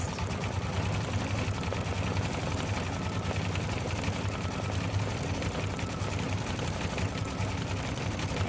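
A sewing machine runs steadily while stitching a decorative strawberry applique pattern, its motor humming with a fast, even needle clatter throughout at close range.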